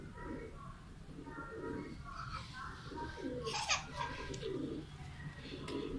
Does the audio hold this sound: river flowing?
no